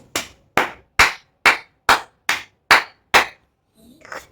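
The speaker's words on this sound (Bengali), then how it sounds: "একটু হাততালি দিই প্লিজ" Eight sharp, evenly spaced hand claps ring out loud and close, each a crisp smack with a quick decay, followed by a faint rustle at the end.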